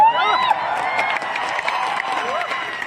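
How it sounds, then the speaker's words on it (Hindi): An audience at a motivational speech gathering claps and cheers loudly, with scattered whoops and whistle-like calls rising over the sustained applause. "आप ताली बजाएंगे तो हम गा सकते हैं"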